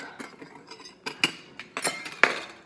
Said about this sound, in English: So here we're just gonna whisk together the rub